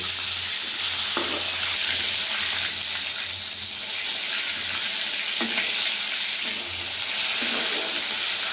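Chicken breast pieces fry in a pan with a steady, loud broadband sizzle throughout, punctuated by a few brief scraping stirs, with no talking.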